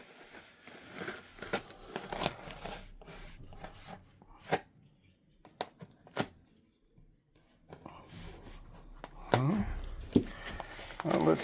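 A package being cut open, scrapes and crinkles in brief bursts near the mic with soft pauses between, building to a louder rustle of packaging at the end.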